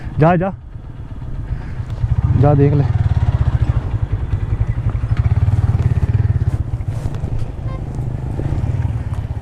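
A motorbike riding along a route toward a waterfall in Balochistan, its engine throbbing steadily and close with rattles and wind, while someone briefly speaks at the start.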